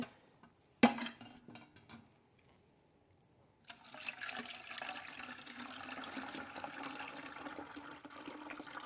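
A sharp knock, then quiet, followed by a steady broadband rush of homemade ice cream mixture pouring and splashing into a container, continuing to the end.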